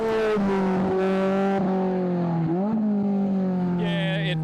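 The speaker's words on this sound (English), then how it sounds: "don't be misled by the high-pitched scream of the 2-litre Toyota" A 2-litre Toyota-powered Skelter rally car revving at Targa NZ, a loud, high-pitched engine scream holding and shifting pitch, dipping and rising again around the middle, with a brief higher whine near the end.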